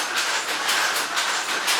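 Old cotton mill machinery runs in a British industrial heritage mill, with a cotton-loaded part shooting from side to side. It makes a steady, rhythmic mechanical clatter with regular pulses about every half second, alone and at moderate level.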